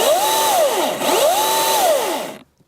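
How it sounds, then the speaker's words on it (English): A Milwaukee M18 14-inch cordless top-handle arborist chainsaw, not yet oiled, whines up and down in two short pulses, loud and close, its pitch rising, holding, then falling each time before cutting to silence. "That sounds pretty grunty for a battery chainsaw"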